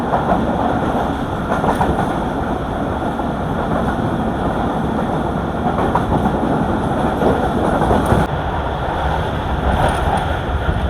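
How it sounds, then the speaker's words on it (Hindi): A Marvi Passenger train in the Thar Desert rumbles steadily along elevated rails at slow speed, a continuous broad roar with faint rhythmic clatter, close and fairly loud throughout. "अभी जो है ट्रेन ऊंचाई पे चल रही है"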